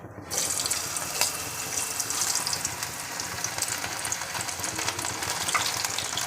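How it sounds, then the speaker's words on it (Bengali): Babycorn frying in hot oil in a wok: a steady, dense sizzle and crackle runs loud and close from just after the start, with no talking. "ভাজার জন্য আমি কড়াই বসিয়ে দিয়েছি। আমার তেল গরম হয়ে গেছে। এখন আমি এগুলোকে ছেড়ে দিচ্ছি।"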